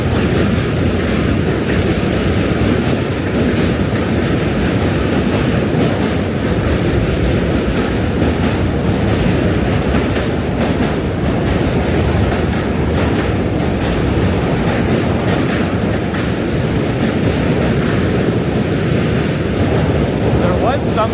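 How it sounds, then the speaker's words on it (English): A loud, steady roar of a New York City subway train arriving in Manhattan, with continuous rumbling and rattling that fills the whole stretch without letting up. "Another train's coming."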